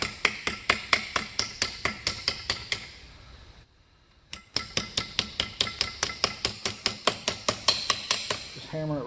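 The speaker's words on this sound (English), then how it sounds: "And then I'm going to take it to here and then hammer that down." A hand hammer strikes an aluminum ear flap for replica USCM colonial marine armor. The blows are sharp, bright and evenly paced, a steady run of metallic taps that stops briefly for about a second and then resumes at the same rhythm.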